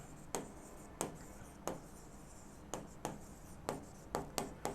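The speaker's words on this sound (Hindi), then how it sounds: "तो यहाँ पर लिख देता हूँ जनरल रिजर्व" Marker or chalk strokes on a classroom board as an accounting entry is written, about a dozen short scratchy strokes in an uneven rhythm, close and fairly quiet with no talking.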